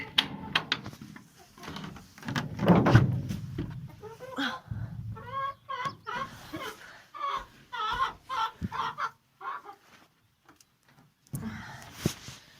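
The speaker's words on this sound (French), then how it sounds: "ça c'était le gros coq" A big rooster and hens in a henhouse give repeated clucks and throaty calls, close and fairly loud, in irregular bursts with quiet gaps between them.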